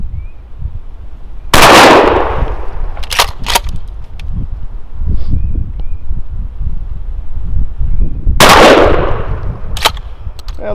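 Two loud, sharp blasts from a Remington 870 Tactical 12-gauge pump shotgun fitted with a Carlson ported choke, fired outdoors about seven seconds apart, each followed by metallic clacks of the pump action.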